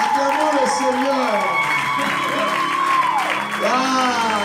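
A church congregation applauds and cheers for the Lord during a French-language service, with sustained clapping and shouts filling the room while a voice rises above the crowd throughout.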